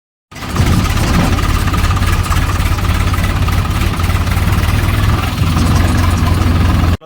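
A farm tractor engine idles loudly and steadily nearby, a low rumbling throb with vibration that starts abruptly and cuts off at the end, no voices over it.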